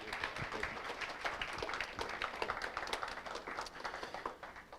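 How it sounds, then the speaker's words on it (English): A church congregation claps during a livestreamed service, steady dense applause from many hands lasting throughout, moderately distant and fairly quiet. "can we give him a hand clap for Jason?"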